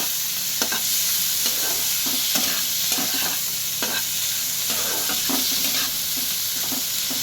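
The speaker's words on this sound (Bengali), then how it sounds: "চিংড়ি মাছগুলো কিন্তু খুব কড়া ভাজা হবে না" Shrimp frying lightly in a pan, a steady close sizzle running throughout with repeated scraping stir strokes at a regular rhythm, no voices.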